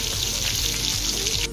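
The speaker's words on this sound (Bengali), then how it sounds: "মোট 7 পিস মাছ ভাজবো" Seven pieces of fish fry in hot oil, a loud, dense, continuous sizzle and crackle heard up close and alone for the whole short stretch.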